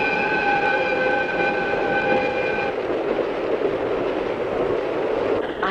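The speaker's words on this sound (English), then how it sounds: "Suguru, it's the express." An express train in 1960s Japan rushes past close by, a loud roar with a sustained horn-like tone that cuts out partway, leaving the rumble of the cars going by.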